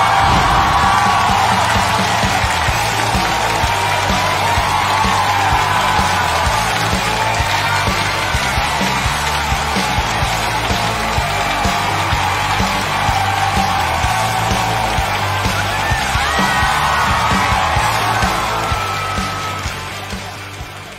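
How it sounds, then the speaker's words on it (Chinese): A studio audience at a televised stand-up comedy show cheers, whoops and applauds loudly and continuously for about twenty seconds, a dense wash of clapping and shouting that fades out at the end. "让我们掌声欢迎陈学冬"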